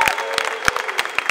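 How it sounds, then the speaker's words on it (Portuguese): Applause from the crowd at a Brazilian skate session, a brief patter of separate claps with cheering mixed in, fairly close. "uma salva de palmas para todo mundo que até hoje veio aqui"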